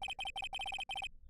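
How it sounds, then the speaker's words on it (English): Electronic phone ringtone from Phoenix Wright: Ace Attorney, a bright chirping tone pulsing in quick paired bursts for about a second before cutting off, loud and alone. "I heard a phone ring just now. One of those newfangled ringtones."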